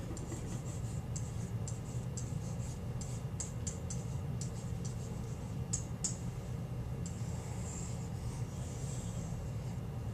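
Pen strokes scratch out numbers on paper in short bursts of faint, close scratching over a steady low background hum.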